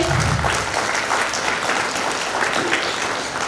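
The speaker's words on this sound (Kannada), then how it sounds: "ದೊಡ್ಡದಾಗಿ ಒಂದು ಚಪ್ಪಾಳೆ ನಿಮ್ಮ ತಾಯಿ ತಂದೆಗಳಿಗೆ." Applause from an audience at a school teacher-honouring and alumni reunion event, a dense, steady wash of many hands clapping at once, loud and sustained throughout.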